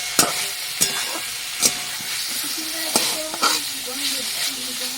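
Chicken frying in a pan, a steady loud sizzle broken by several sharp scraping stirs of a spoon against the pan, with no talking.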